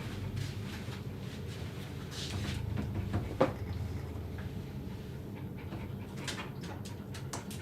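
A three-year-old white Havapoo pants softly and steadily during a grooming session, faint and close, with a few small clinks and rustles from the grooming table.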